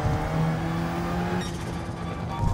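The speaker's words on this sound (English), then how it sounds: "Using first gear to slow the car" A Gran Turismo 7 race car engine braking in first gear on the Eiger Nordwand circuit, a loud, steady high-revving drone with droning harmonics that shifts pitch partway through.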